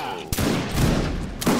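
Musket volley in the game Mount and Musket: a sudden loud crackling burst of massed shots, then a rumbling tail and another sharp crack near the end.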